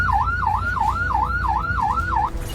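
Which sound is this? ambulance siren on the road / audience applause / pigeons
ambulance siren on the road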